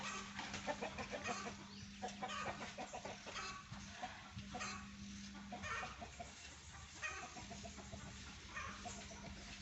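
Chickens cluck and cackle in a busy, overlapping flock over a steady low hum, the calls coming in moderate bursts that stay fairly soft and distant throughout.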